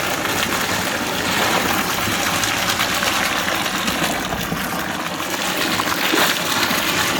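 A sewage pump discharges water into a 2,000-litre Sintex tank, a steady, loud gushing rush of flowing water that runs unbroken throughout, with no voices.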